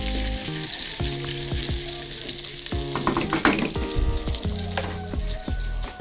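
Onion, garlic and long beans fry in a pan for adobo, making a steady close sizzle with stirring scrapes and steady tonal background sound throughout, and no talking.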